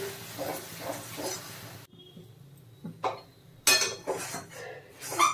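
Eggplant mashed with red amaranth greens being stirred in a pan, with spoon-on-pan scrapes and clinks coming in irregular bursts, close and moderately loud, broken by a short quieter gap.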